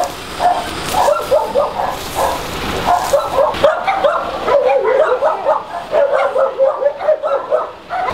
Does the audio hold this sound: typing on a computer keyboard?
no